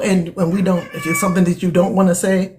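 A cat meows indoors, a short, clear call rising over a person who keeps talking steadily throughout.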